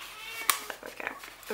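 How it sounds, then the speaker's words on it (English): A house cat lets out a few short, close meows in quick succession while a person talks over them indoors. "Excuse my cat, who's now wanting to be involved in my video."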